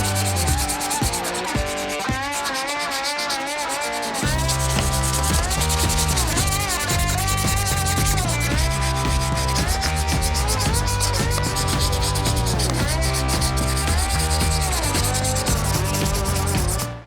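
Steady, loud abrasive rubbing of 600-grit sandpaper across an aluminum motorcycle rocker box from an 883-to-1275 conversion, continuous and close after a brief softer start, with a rhythmic back-and-forth scrape.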